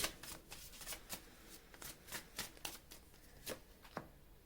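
Tarot cards being shuffled and drawn during a reading, a steady run of soft riffling flicks and card snaps, close and fairly quiet, with no talking.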